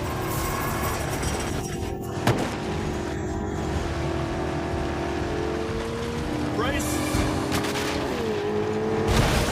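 A car races along during a chase, its engine droning steadily and loudly throughout with rising whines and passing whooshes, while voices talk over the noise.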